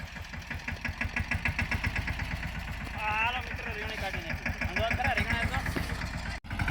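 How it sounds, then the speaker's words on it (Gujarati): A tractor engine chugs steadily at idle in a farm field with a rhythmic knocking throb, while voices talk over it partway through. "આપણે જો ટ્રેક્ટર હાલે છે"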